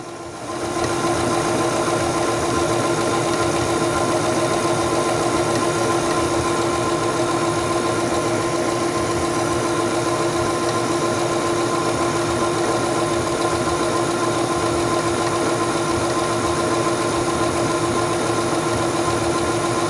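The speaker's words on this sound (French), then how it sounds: "abaisser le pied presseur et commencer à coudre" A Singer Stylist 7258 sewing machine stitches through fabric, a steady continuous motor hum with rapid mechanical needle vibration running unbroken and fairly loud for the whole stretch.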